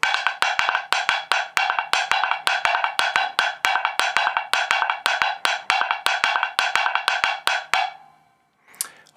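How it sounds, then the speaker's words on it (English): Rapid, dense palitos rumba variation on a Van Croft woodblock, bright dry wooden strikes packed in a driving syncopated rhythm, loud and close with no voices, stopping near the end before a short handling noise. "I've got a woodblock here, a nice Van Croft woodblock I'm going to be playing on"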